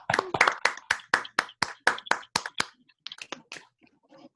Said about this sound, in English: Let's all give Neil a round of applause